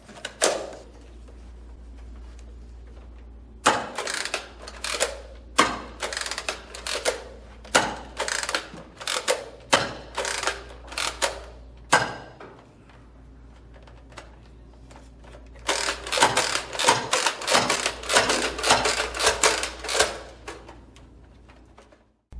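A NERF Zombie Strike Scravenger lever-action blaster fires darts in a string of sharp mechanical clacks and snaps from cycling the lever, irregular at first, then a faster dense burst of clicks toward the end, all close and without talk.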